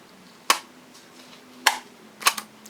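A clothing tagging gun clicking through garment fabric near a seam, three sharp, close clicks spaced about a second apart, the last a quick double, in a quiet room.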